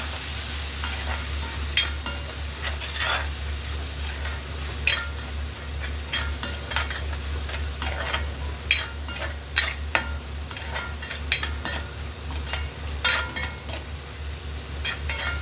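Chana dal and tomato curry paste frying in a pan makes a close, steady sizzle with frequent scraping and clinking of a spoon against the pan over a low constant hum, no voices.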